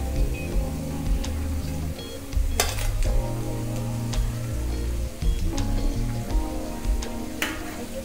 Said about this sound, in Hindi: तो देखिए ये फ्राई होकर के एकदम रेडी है, मैं इनको निकाल रही हूँ।